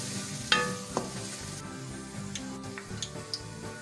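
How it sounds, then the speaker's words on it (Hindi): Onions sizzle steadily as they fry toward light brown in a little oil for mutton pulao, with a few sharp clinks of a spoon stirring the pan; there is no talking. "प्याज को हम लाइट ब्राउन कर लेंगे।"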